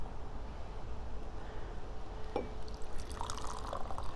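Hot water at about 180 to 190 degrees pours over oolong tea leaves in a gaiwan to rinse them, a soft trickling splash rising to a brighter pour near the end.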